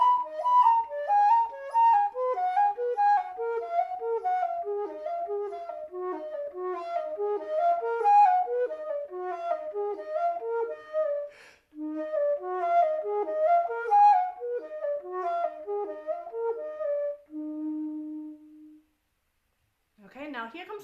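Baroque traverso flute playing Blavet's Gigue en Rondeau, soft breathy notes in a lilting, connected dance phrase, close and clear, pausing briefly mid-passage and ending on a long held low tone.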